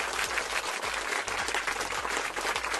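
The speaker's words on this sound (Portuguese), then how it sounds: "palmas para Bailu e para Bel" Applause fills a livestream, a dense continuous clapping texture at steady loudness with no talk over it.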